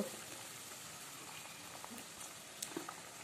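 Fish curry gravy made with tamarind water boils in a pan, giving a soft, steady bubbling hiss that runs the whole time at low level, with a few faint pops and no talking.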